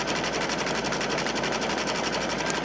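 An embroidery machine stitches a zippered pouch in the hoop, a fast, steady, even needle clatter running loud and close without a break.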